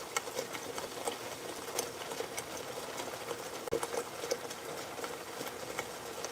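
A pot of spaghetti sauce simmers with its lid halfway on, a steady crackling, popping patter of bubbles close by, with a few sharper pops through the run as it nears boiling over.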